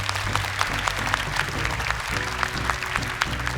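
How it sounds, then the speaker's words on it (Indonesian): Studio audience applause on an Indonesian televised Quran memorization competition, steady and fairly loud throughout. Music tones play beneath the clapping. "Tepuk tangan dong untuk mereka."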